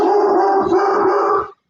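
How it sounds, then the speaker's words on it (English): A dog howls in one sustained, wavering cry lasting about a second and a half, loud and close, then cuts off into silence. "Dogs, the best."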